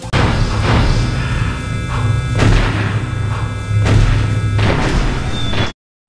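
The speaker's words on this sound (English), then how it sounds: "Bazooka is really fun to aim and shoot to see the big destruction" Bazooka shots and big blasts in Crash Bandicoot: The Wrath of Cortex, several heavy booming thuds in sequence over a droning game background, loud and close, cutting off abruptly at the end.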